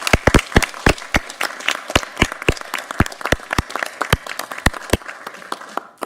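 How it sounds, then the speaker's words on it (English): Applause at a city zoning meeting, with a modest number of people clapping and individual sharp claps ringing out clearly, near and fairly loud, for about six seconds. "we give you a round of applause this last zoning meeting"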